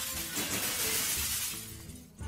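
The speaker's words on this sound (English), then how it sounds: "at least I get the one where I can smash the glass" A loud, full glass-shattering crash from the Hearthstone card game fills the clip, a dense burst of breaking glass that fades and trails off toward the end.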